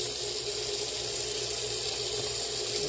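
Tap water runs steadily from a kitchen faucet into a cup, a constant close splashing hiss with no pauses.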